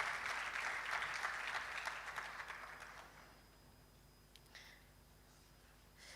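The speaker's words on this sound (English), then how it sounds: "Please, a round of applause." Audience applause at an opening session of an African women-in-STEM conference, moderately loud at first and then thinning out to scattered claps and quiet room tone.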